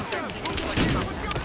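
Gunfire in Battlefield Hardline: a quick series of loud, close shots and bursts, several sharp cracks packed into a second and a half of chaotic firefight noise.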